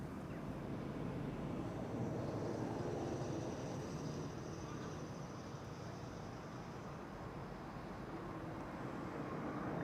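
A fixed-wing airliner takes off at Amsterdam Schiphol Airport, a faint, distant broadband roar that swells slightly and then holds steady, mixed with wind noise on the microphone.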